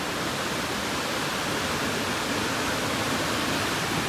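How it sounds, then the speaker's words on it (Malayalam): Water heating for tea at a campsite inside a cave gives a steady, close, broadband hiss and rumble as it comes to the boil, with no voices. "വരുമാനെ വെള്ളമൊക്കെ തിളച്ചു തുടങ്ങിയിട്ടുണ്ട്"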